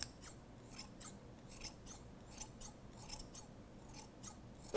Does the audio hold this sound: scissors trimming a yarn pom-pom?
yes